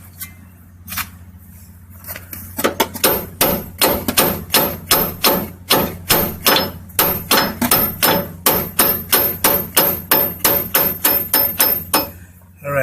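Steady series of about twenty-five sharp metallic hammer blows strikes a universal joint onto a power steering spline shaft with a makeshift tool in place of a ball-peen hammer, close and loud at an even rhythm after a few early taps.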